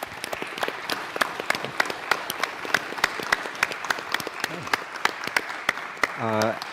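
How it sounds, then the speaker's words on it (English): Audience applauding panel speakers at a design thinking education convening: a steady run of individual claps, fairly sparse and distinct, carrying for several seconds before a voice begins speaking near the end. "Could we please give them a very big round of applause?"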